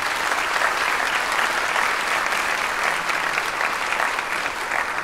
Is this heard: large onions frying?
no